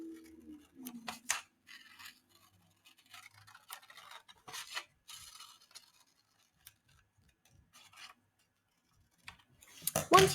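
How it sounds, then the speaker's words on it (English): Scissors cutting out a paper circle, a series of close snipping and rustling cuts in irregular bursts with quiet gaps, ending in a louder scrape of paper. "These are complete, but we need to cut out our circle."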